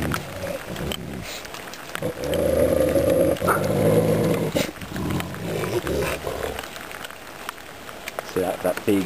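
A low, rumbling animal growl rises and falls over several seconds, close by, with people talking at intervals over it.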